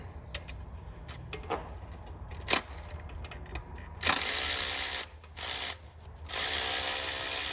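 Ratchet on the belt tensioner of a 6.7 Cummins engine during a front crank seal job, with scattered clicks and clanks, then loud bursts of rapid close ratcheting with short pauses between runs.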